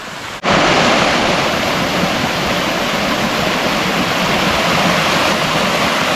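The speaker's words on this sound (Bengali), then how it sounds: "দেখতেই পাচ্ছ আমার পিছনে কিন্তু রয়েছে তুর্গা জলপ্রপাত" Durga waterfall, also called Turga Falls, in Purulia roars as a continuous, loud rush of falling water, beginning abruptly and holding steady without pause.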